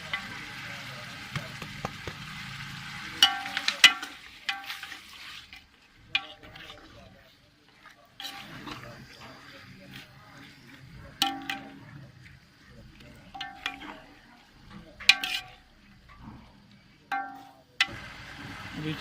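Chicken curry with tomato, garlic, ginger and green chilli frying together in a pan, a soft sizzle broken by intermittent scraping and stirring clatters, fairly quiet and close.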